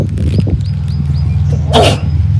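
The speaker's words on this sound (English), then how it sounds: "I don't know why I'm sneezing so much." A single short sneeze bursts out sharply near the end, preceded by some faint squeaks and rustling over a low steady hum.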